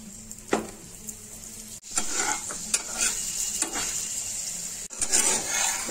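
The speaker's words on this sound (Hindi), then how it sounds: "पराठे को तवा में डाल दिए हैं।" A gobi paratha sizzles in ghee on a hot tawa, a steady close frying hiss broken by a few scraping and tapping spatula strokes, with no talking.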